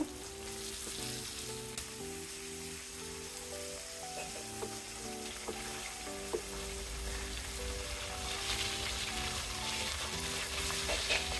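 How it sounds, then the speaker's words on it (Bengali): Boal fish pieces fry in hot oil, giving a steady, close sizzle that runs continuously with faint crackles and no voices. "এক পাশ ভাজা হয়ে গেছে, এবার আমি উল্টে দেব"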